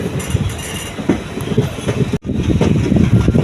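Chennai Egmore Express 16102 rolls through the hills between Kollam and Madurai via Punalur, a loud, steady rumble of rail wheels with rhythmic clatter and a brief sharp dip partway through.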